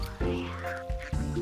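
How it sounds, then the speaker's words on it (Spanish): Loud, nasal cartoon-style duck quacks in a children's animal-learning program, two close voiced bursts with a short gap between them, clear and up front. "Puedes verte como un pato y graznar como un pato"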